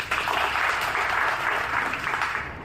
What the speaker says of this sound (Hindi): राठौर क्षत्रिय सभा गुजरात के लिए मैं सबसे पहले जोरदार ताली बजवाना चाहता हूं